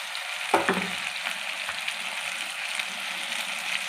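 Ginger garlic paste frying with shrimp in a hot pan, a steady soft sizzle with a brief stir and clatter near the start, faint and continuous, with no talking.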